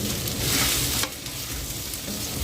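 Ivy gourd (kundri) sizzles and fries in a hot wok, a steady bright crackling hiss with a brief stir or clatter near the one-second mark, close and continuous with no voices.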